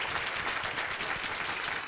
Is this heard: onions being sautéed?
no